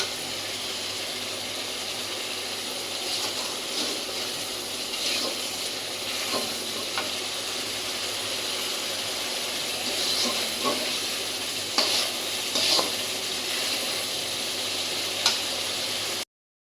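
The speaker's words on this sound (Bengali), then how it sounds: "মশলাটা অনেকভাবে সুন্দর করে কষাতে হবে" Spices for a rohu fish curry frying in a pan, a long steady sizzle and hiss with occasional soft clinks and scrapes of stirring, fairly quiet and even throughout, no talking.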